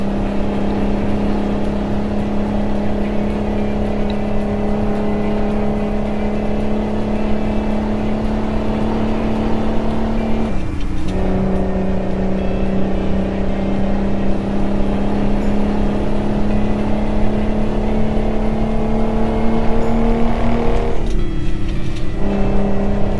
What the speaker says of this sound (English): can never get bored of that engine noise